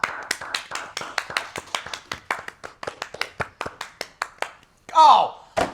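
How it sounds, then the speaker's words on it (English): A small group claps steadily in quick, sharp strikes during a late-night space talk show, loud and close, ending in a brief burst of cheering near the end. "can we get a huge round of applause for Dada's amazing job switching back and forth today?"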